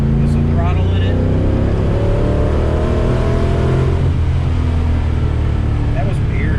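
A 1965 restomod Ford Mustang engine under throttle, a loud close low rumble and drone from inside the car that rises steadily, with talk over it.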